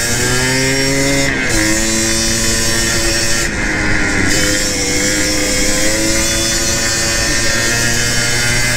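Yamaha DTJ 175 two-stroke motorcycle on a trail, its buzzy, high-pitched engine droning steadily close by, with revs dipping and rising briefly now and then.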